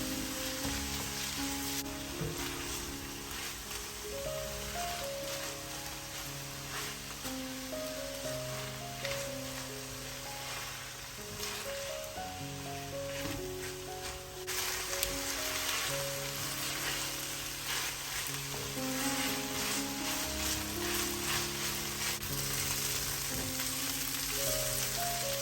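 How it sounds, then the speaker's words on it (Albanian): Onions and peppers frying in olive oil while being stirred, a continuous close sizzle and crackle running throughout with faint clinks and scraping of the stirring, no one speaking. "do t'i përzijmë derisa qepa dhe specat të skuqen."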